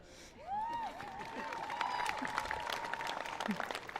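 Thin, scattered clapping from students at the Enfield High School 2024 graduation, soft and distant in a large space, with a voice drifting over it.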